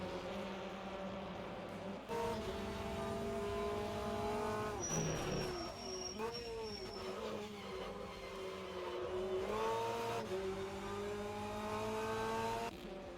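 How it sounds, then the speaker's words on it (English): Touring cars race at Silverstone during a BVTCC championship round, their engines roaring steadily and close by, with the pitch rising and falling through gear changes and a brief high whine partway through. "The next car back is Gardner"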